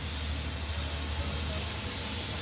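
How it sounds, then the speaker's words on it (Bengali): A pressure cooker holding banana flower, giving a steady, fairly loud rushing hiss of escaping steam with a low rumble underneath, continuous and unbroken. "আর মোচাটাকে প্রেশারে বসিয়েছি আরও দুটো সিটি দিতে হবে"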